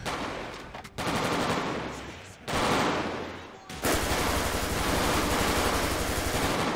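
Gunfire in GTA 5 comes in long, loud bursts of rapid automatic shots, close and relentless, separated by a few brief pauses.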